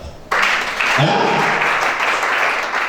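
A church congregation bursts into loud, sustained applause and cheering that fills the room after a brief lull, continuing evenly to the end.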